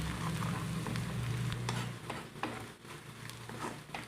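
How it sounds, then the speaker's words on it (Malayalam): Onions with curry leaves sauté in a pan, sizzling and frying steadily up close, with a brief stir, the hiss fading a little toward the end. "ഇതിനൊരു ലൈറ്റ് ഗോൾഡൻ കളർ ആവുന്ന വരെ നമുക്ക് വഴറ്റി കൊടുക്കണം."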